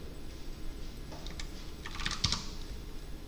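Typing on a computer keyboard, a short burst of quick, light key clicks close by over a quiet room hum, with no talk.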